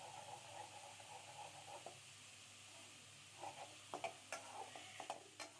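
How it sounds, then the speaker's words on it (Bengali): An egg fries quietly in a pan, giving a faint steady sizzle, then several light scraping and tapping strokes as it is stirred toward the end. "এবার একটা ডিম দিয়ে ডিমটা নাড়িয়ে চাড়িয়ে হাফ ভেজে নিয়ে এবার সবজির সঙ্গে মিশিয়ে নিব খুব ভালোভাবে"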